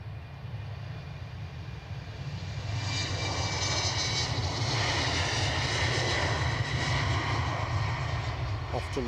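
A British Airways airliner rolls for takeoff at Edinburgh airport, its engines building to a steady, broad roar that swells and holds at a moderate distance, with a brief voice near the end.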